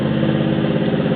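A 1974 Buick Regal sedan's 350 four-barrel V8 idles just after start-up, a steady low rumbling drone, close and continuous for a brief moment.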